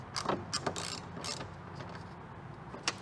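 A wrench tightens the bolts on a 2013-2015 Acura ILX side mirror with a few quick ratcheting clicks and metallic taps, close and quiet, spaced unevenly over a faint background hum.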